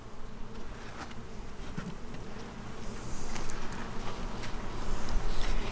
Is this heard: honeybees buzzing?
yes